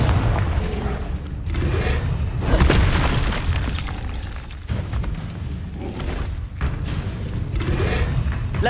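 Explosive Confringo spell blasts in Hogwarts Legacy, a series of heavy booming thuds and bursts repeating over several seconds, loud and close amid game sounds.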